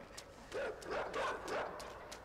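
Dogs bark and yip in the video game Inside, several quick barks in a row sounding faint and a little distant, with a few soft clicks between them.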